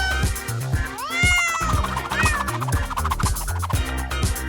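Cartoon cats meow in a brick-built pet game park, several rising meows over a bouncy music bed with steady thumping beats, fairly close and clear.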